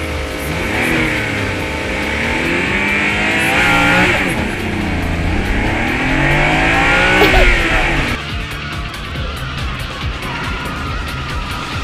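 The Devil Z, a tuned Nissan Fairlady Z, races flat out in Wangan Midnight with a loud, sustained engine howl that rises and falls through the gears, then drops to a rougher rumble toward the end.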